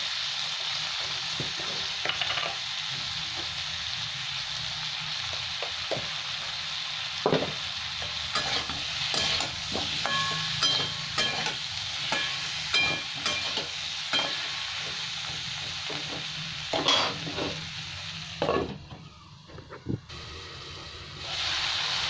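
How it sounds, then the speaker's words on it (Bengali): Vegetables fry in a pan with cumin and coriander powder, a soft continuous sizzle broken by intermittent scrapes and clinks of a spatula stirring, fairly quiet and close, no voices. "আর একটু আমার সবজিটা ভাজা ভাজা হবে"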